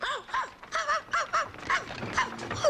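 A dog gives a quick series of short, high, yappy barks and yips in an irregular rhythm, close and moderately loud, with faint background noise underneath.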